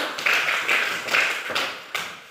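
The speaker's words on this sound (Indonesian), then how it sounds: "Tepuk tangan untuk kelas 3" A third-grade class claps together in a classroom, a steady crackling patter with a few louder swells, close and lively with no talk over it.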